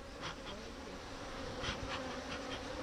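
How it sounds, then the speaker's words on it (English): Irritated honeybees buzz around an opened hive, a dense, steady drone that stays close and fairly loud throughout without any talking. "Those are bees that are irritated with us."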